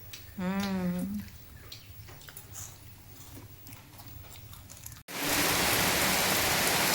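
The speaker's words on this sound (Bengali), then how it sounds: "যত বেলা হচ্ছে তত বৃষ্টিটা হচ্ছে যে বাড়ছে" Heavy rain hisses steadily and loudly, swelling into a dense, roaring downpour after a brief pause; a short whinny-like call sounds near the start.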